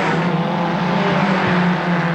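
Race cars in the 1986 Gemini Series at Lakeside crossing the start-finish line area, a distant continuous engine drone with a rising pass-by note, steady and moderately loud.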